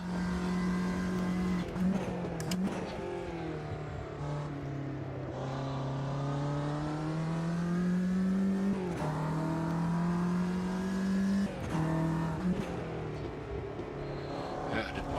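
Race cars in the One World Racing sim game, an engine droning steadily and rising and falling with revs and gear shifts, with occasional tire squeal across the whole stretch.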